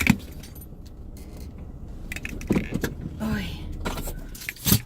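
Keys jangle and rattle in short metallic bursts near a car, close and fairly loud over road and vehicle noise, with a brief spoken exclamation.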